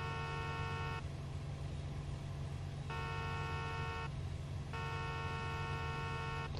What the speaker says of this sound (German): Jetzt hup ich mal.